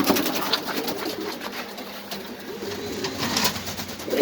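Pairs of exhibition pigeons coo steadily at a pigeon farm, soft rolling calls repeating close by over a busy background hum, with no speech.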